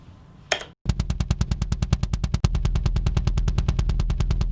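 Rapid, evenly spaced kick drum hits repeat in a fast machine-like pulse, punchy and crunchy with a gritty, degraded low-fi character.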